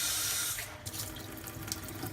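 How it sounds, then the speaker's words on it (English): Water runs from a kitchen faucet through a Brita faucet filter adapter, a steady splashing rush into the sink. The flow stays constant and close throughout, with no voices. "and put the water on"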